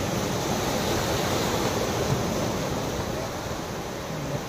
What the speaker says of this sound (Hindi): पानी का लहर बहुत मस्त है